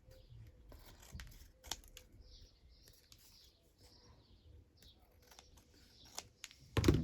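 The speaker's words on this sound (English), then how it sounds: "Why don't I snip off the leaves now so I don't waste my time gluing them and get glue all over my scissors." Scissors snip leaves from a paper rose in a few short, crisp cuts scattered between quiet pauses, close up, with light handling noises and a louder rustle at the end.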